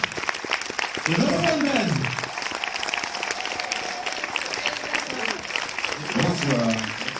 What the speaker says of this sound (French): je vous demande d'applaudir chaleureusement Fred Cavaillé, Stéphane De Groot